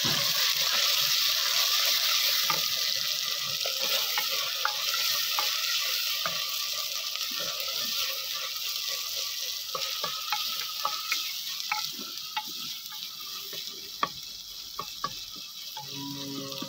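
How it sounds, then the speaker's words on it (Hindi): Onions sizzle and crackle in a hot pan for daal mash, a steady frying hiss with scattered pops and occasional stirring clicks, no talking. "ये जी प्याज फ्राई हो रहे हैं अब"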